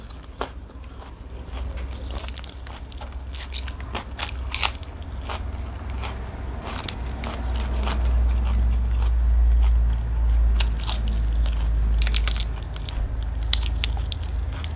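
Someone eating rice at a shared family meal, with close, irregular crunchy bites and chewing sounds repeating throughout over a low, steady background rumble.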